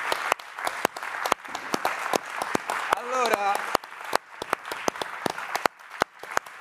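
Theater audience applauding actor Valerio Aprea after his monologue, sharp scattered claps with crisp individual hits, a voice speaking briefly over the middle of the clapping.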